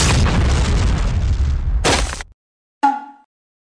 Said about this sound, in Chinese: 最近我也打出一个炸弹，让他见识一下什么叫精准投放。